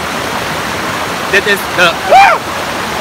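River rapids (sula) on the middle course of the Suriname River rush in a steady, loud, close roar of water while someone speaks briefly over it.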